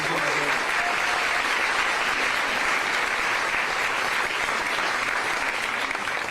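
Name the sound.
applause from an audience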